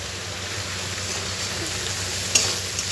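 Spice paste for fish head curry sautés in oil with a steady close sizzle like light rain, stirred with one sharp clink partway through.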